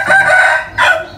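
A rooster crows loudly and close by on a farm in Sakon Nakhon, Thailand, one long drawn-out call followed by a shorter second burst, with no talk over it.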